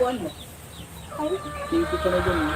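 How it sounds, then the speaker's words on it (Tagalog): Several chickens squawk and cackle close by, a busy, noisy flock with overlapping calls under a low voice. "Ang ingay nung mga manok."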